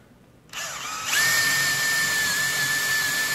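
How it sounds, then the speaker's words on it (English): A power drill whirs up to a steady high-pitched whine and keeps running close by, boring a hole into maple wood for a woodworm screw. "And drilling for the woodworm screw here."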